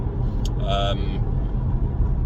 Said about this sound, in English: I'm currently driving my car to get the oil up to temperature